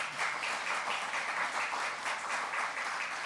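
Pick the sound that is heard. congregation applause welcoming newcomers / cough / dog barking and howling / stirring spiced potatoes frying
congregation applause welcoming newcomers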